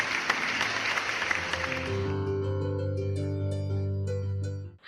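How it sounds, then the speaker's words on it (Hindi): A church congregation applauds to welcome a witness. Steady clapping lasts about two seconds, then gives way to sustained keyboard or organ chords. "हम जोरदार ताली बजा के स्वागत करेंगे हमारे गवाह का"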